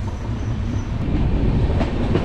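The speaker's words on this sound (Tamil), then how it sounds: "Cuddalore railway ஸ்டேஷன்லேருந்தும் train start ஆகிடுச்சிங்க" Cholan Superfast Express, train 22675, pulls out of Cuddalore railway station, heard from onboard as a loud, steady rumble with rhythmic wheel clatter and occasional metallic clicks.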